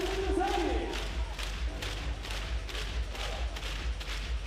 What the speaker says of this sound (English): Great response once again from this Stings crowd, lifting their team and trying to push them to the result here